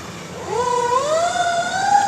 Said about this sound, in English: The sirens stop sounding after they drive by me.